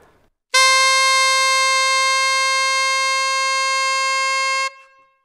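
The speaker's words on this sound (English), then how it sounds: "So this is what a high A sounds like with no vibrato." A single sustained high A on saxophone held steady without vibrato for about four seconds, bright and piercing with no wavering, then cut off cleanly.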